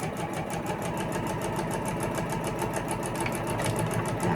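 A sewing machine stitches closed a small opening in a keychain wallet, running in a fast, steady mechanical rhythm that stays close and loud throughout, with no talk.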